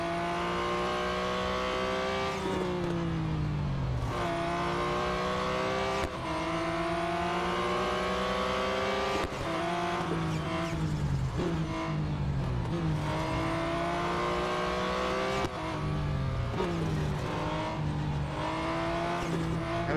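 Porsche 911 GT1 Strassenversion racing in a driving game, a loud continuous engine roar that climbs through the revs, drops at each gear change and climbs again while overtaking, with no break over twenty seconds.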